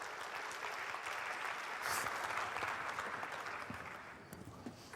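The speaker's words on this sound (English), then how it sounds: "round of applause." An audience at a tech summit panel on NFTs gives sustained, even applause for about five seconds, moderately loud, with no voices on top.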